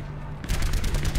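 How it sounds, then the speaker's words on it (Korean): Gunfire in an Overwatch match comes as a loud, dense burst of rapid shots with no talking. "저를 쏘고 있었네요"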